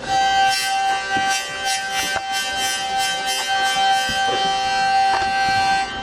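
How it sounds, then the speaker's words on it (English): A loud, steady buzzing drone from the chien (dog) string of a stringed instrument, a small vibrating bridge giving a rhythmic rasping pulse through the sustained tone. "I'm going to add a third string now, which is called a chien, or dog"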